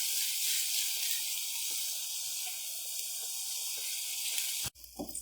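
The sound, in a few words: chopped onions frying in a pan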